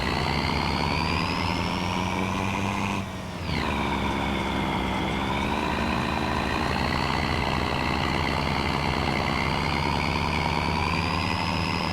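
A truck engine in Farming Simulator 25 runs steadily and loudly with a deep idle drone and harmonic whine, dipping briefly near three seconds and then settling back into a constant hum.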